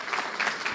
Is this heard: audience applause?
yes